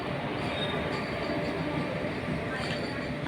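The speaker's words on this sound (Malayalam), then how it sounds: "ഇതിൻ്റെ ഇടയ്ക്ക് ഒത്തിരി ട്രെയിൻ അങ്ങോട്ടും ഇങ്ങോട്ടൊക്കെ പോകുന്നുണ്ട്" Trains roll past on the rail line during a trip to Palani, a dense, continuous rumble with wheel noise and a faint squeal, loud and close, with some voices mixed in.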